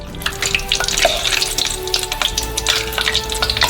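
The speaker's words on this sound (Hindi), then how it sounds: "कॉर्न डॉग को डीप फ्राई करेंगे।" A corn dog deep-fries in hot oil, a continuous close crackle and bubbling sizzle with dense popping, heard alone without talk.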